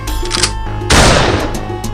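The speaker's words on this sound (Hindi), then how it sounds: "दोनों बंदूक से गोली चला देता है और नाग नागिन को घायल कर देता है" Over a looping cartoon music bed, a sudden burst of gunfire at a pair of snakes crackles loudly for about half a second before the music continues.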